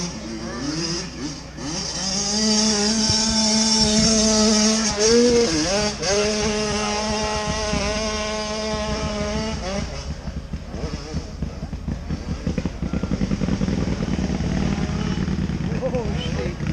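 A 125cc motorcycle labours up a steep hill-climb course, its engine wailing and rising in strained pitch before fading into rougher, lower running, with crowd chatter and voices heard over it.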